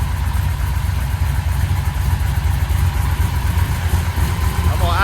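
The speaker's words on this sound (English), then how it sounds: "I'm gonna idle it up just a little bit and get some heat in it." A Big Block Mopar 500 stroker V8 idles steadily and close by, a continuous low rumble with no revving, running cold after a rear main seal repair.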